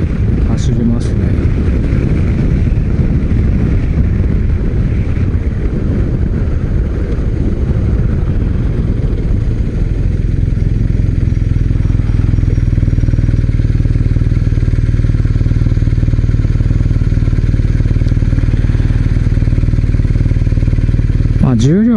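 A BMW R1250RS motorcycle rides through city streets. Its engine drones steadily and loudly close by with wind rush, settling into a smoother, lower hum partway through.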